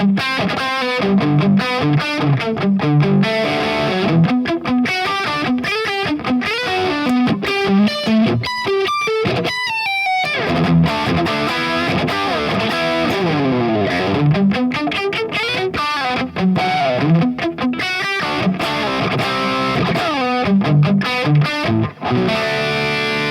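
A distorted electric guitar riff played through a Celestion Vintage 30 or G12T-75 speaker in a guitar cabinet, dense and continuous with chugging chords and bends, loud throughout with a brief break near the middle.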